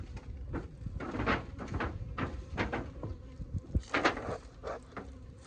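Honey bees buzzing around an opened hive during the first inspection of the year, a steady close insect hum with intermittent knocks and scrapes of hive parts being handled.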